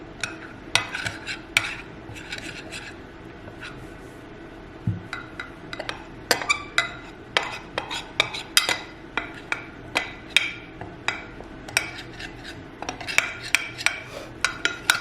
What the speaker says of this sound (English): So you're just gonna keep stirring it until it kind of makes like a jelly texture